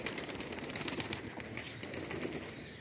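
Tumbler pigeons cooing and fluttering nearby against a steady outdoor background, with soft wing flaps and bird calls scattered throughout.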